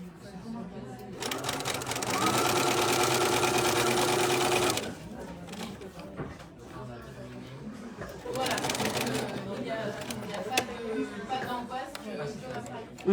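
A sewing machine stitches through a zipped vinyl pouch in two loud rapid bursts separated by a pause. Quieter handling sounds fill the gap, and someone talks throughout.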